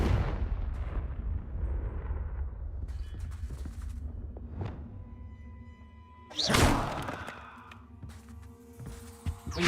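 Confringo fire-blast spells in Hogwarts Legacy, a few separate booming bursts: a heavy rumble at the start, a sharp crack in the middle, and a loud blast later that rings out, each fading over a quiet backdrop.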